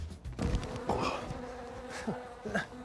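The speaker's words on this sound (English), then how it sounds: "Bees. I hate bees." Bees buzz close by at a distillery that keeps its own hives, a soft, wavering hum with a few louder passes as insects drift near and away.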